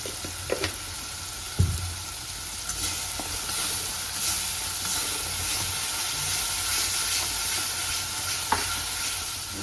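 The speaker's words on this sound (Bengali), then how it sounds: "মটরশুঁটিগুলো দিয়েছি, মটরশুঁটি আগে থেকে ধুয়ে রেখেছিলাম" Peas sizzle and fry in a pan of spiced masala for matar mushroom, a steady close hiss with a few stirring scrapes and clanks, no talking.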